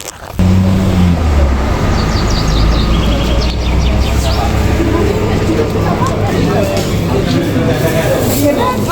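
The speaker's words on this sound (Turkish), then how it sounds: "Kuş seslerini duyuyor musunuz?" Birds chirping and singing in the background at Abant Lake in Bolu, partly masked by a steady low rumble of traffic or engine noise and people talking nearby.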